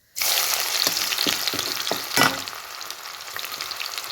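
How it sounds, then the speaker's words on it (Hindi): Cumin seeds sizzling hard in very hot oil for a tempering, a loud steady crackle from the first moment, with a few sharp pops and one louder burst midway, heard close and alone. "जीरा डाल दिया तड़के के लिए। तेल बहुत ज़्यादा गर्म देखिए लग गया बहुत आसानी से।"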